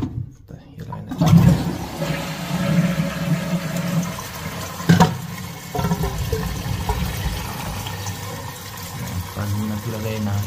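A hotel toilet flushes with a loud rushing gush followed by a long churning refill of water, close by; a voice speaks faintly under it.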